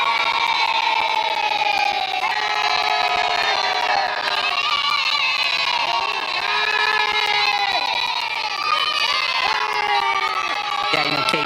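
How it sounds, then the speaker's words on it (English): People in the Rakia mission control room in Tel Aviv cheer and shout in a lively, sustained burst of excited voices and whoops throughout. "our good friends in Tel Aviv's Rakia Mission Control are actively engaged, monitoring the mission and cheering on Eitan Stiba"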